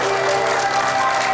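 Audience applause for a singer right after a song, a dense, steady wash of clapping filling the whole moment at close, even volume.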